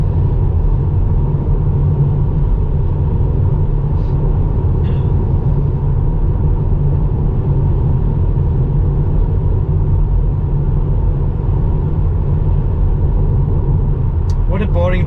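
Tesla Model 3 cruising at 100 km/h, a steady broadband road and tire rumble with constant low drone throughout, muffled cabin noise with a brief faint click near the end.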